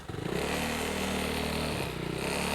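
Yamaha Aerox or NMAX scooter fitted with a racing ECU, engine held steady on the throttle, a loud close continuous drone with a brief dip near the end.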